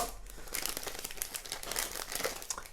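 A plastic bag crinkles continuously as circuit parts, including wires, are pulled out of it, giving close, fairly quiet rustling with quick irregular crackles and no talk.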